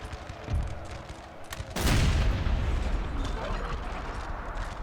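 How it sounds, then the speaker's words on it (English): Cannons firing canister shot in a Napoleon Total War battle, a sudden loud burst of gunfire that rolls into a sustained rumbling roar of battle noise. "can we get canister firing that way?"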